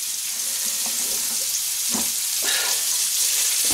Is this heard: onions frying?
yes